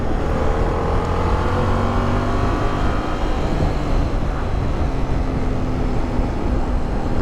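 A Yamaha Tracer 7 GT sports-touring motorcycle engine pulls steadily under throttle, a continuous loud drone with rising engine tones blended with wind rush, close and sustained with no talking.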